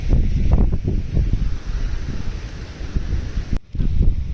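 Strong wind sweeps across farm fields of tall oat crop ahead of rain, rushing in heavy, gusty bursts that buffet the microphone, easing briefly before surging again.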